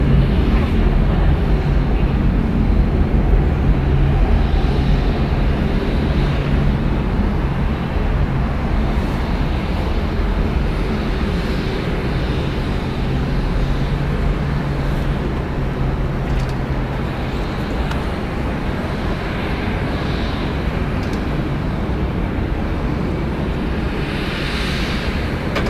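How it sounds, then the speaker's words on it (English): A Delta Airlines Boeing 757-200, 27 years old, departing Atlanta Hartsfield-Jackson airport bound for Kansas City, gives a steady broad jet roar that holds even and loud throughout with no clear change. "Delta Airlines flight 2908 going to Kansas City. It's a Boeing 757-200, 27 years old."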